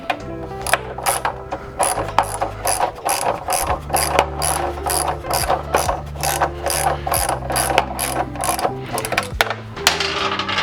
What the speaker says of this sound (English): we're gonna take our ratchet and just tighten them just a little bit